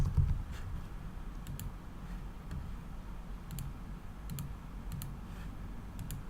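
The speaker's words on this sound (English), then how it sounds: "I'm gonna type shoes here" Soft, scattered keystrokes on a computer keyboard, faint and close, tapping out a short word in a quiet room with a low steady hum behind.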